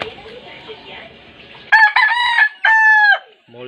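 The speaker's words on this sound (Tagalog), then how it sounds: "Six years old na itong brood cock namin." A six-year-old brood cock rooster, molting, gives one loud close crow in several strong ringing segments after a brief stretch of quiet background noise, ending with a short low sound.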